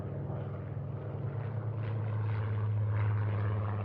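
Military aircraft take off from the Midway island runway with a loud, steady propeller engine roar that holds throughout and swells slightly toward the end, with no talk.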